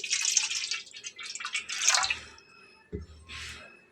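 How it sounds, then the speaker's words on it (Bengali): Water is poured into a dry kitchen wok in bursts of splashing and trickling, close and bright, with a short gap before a final pour, and a few soft knocks of the vessel. "একটা কড়াই নিয়ে নিয়েছি একদমই শুকনা তাতে আমি এখন পরিমাণ মতো পানি অ্যাড করে নিচ্ছি"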